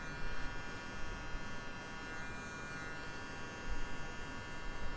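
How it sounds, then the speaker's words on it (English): A soft electric hair trimmer blends a beard during a taper haircut, giving a steady, faint buzzing hum that runs the whole time without a break and without voices. "That soft trimmer just makes everything match"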